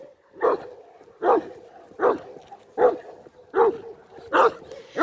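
A 60 kg Cane Corso barks while lunging, giving six deep, evenly spaced barks about a second apart, fairly close and loud, with low background noise between them.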